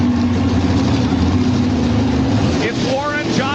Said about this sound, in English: The motors are at least up off of idle at the moment.